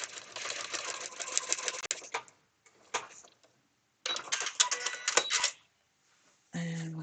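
A domestic sewing machine stitches through the seam allowance of fabric in a foundation paper piecing project, in several short bursts of rapid mechanical whirring separated by pauses.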